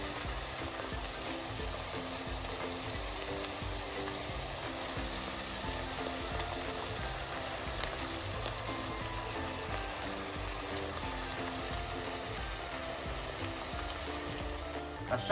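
Peeled tomatoes simmer in a pan with Calabrian sausage, porcini mushrooms and white wine, giving a steady, even sizzle and bubbling that runs unbroken and fairly loud throughout.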